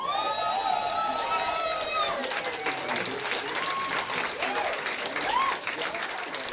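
A crowd of same-sex marriage supporters in Bern, Switzerland, cheers and applauds after a referendum result, a dense continuous roar of clapping and shouts, with a voice speaking over the first couple of seconds.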